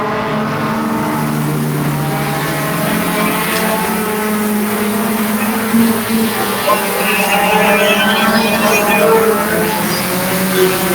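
Mini stock race cars circling Peterborough Speedway on the last lap, a loud continuous roar of several engines droning and shifting pitch as they pass.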